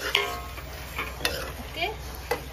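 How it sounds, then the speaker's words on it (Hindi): Fried potatoes tumbled into a pan of gravy and stirred with a spoon, soft sizzling under a few sharp scraping strokes against the pan, close and steady. "अब हम इसके अंदर डालेंगे हमारे फ्राई पोटैटो"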